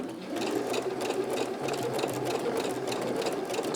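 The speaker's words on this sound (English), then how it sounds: "your sewing machine can't really go further, it's better to push your fabric than to pull it" A home sewing machine stitches fabric for basic panties, its needle mechanism chattering in a fast, even, close-up rhythm without pause.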